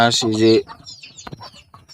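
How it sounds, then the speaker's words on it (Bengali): A male Muscovy duck at a small home farm gives a short, loud, harsh call up close, followed by softer scattered clucking and rustling sounds. "এই যে এটা হলো পুরুষ চীনা হাঁসটা মেন"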